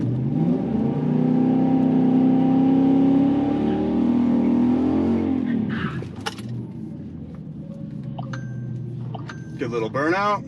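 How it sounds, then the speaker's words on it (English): A car does a burnout on a race track, its engine revving hard for several seconds before dropping away. Clicks and rustles follow close by, and a person speaks briefly near the end. "Good little burnout."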